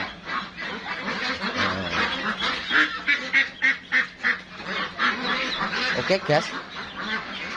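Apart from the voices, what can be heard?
meat ducks quacking on a duck farm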